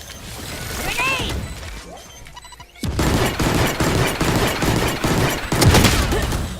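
Grenade blast and heavy gunfire in a multiplayer video game, with a sudden loud burst of explosive noise followed by continuous rapid shots and crashing, while a voice talks over the first part.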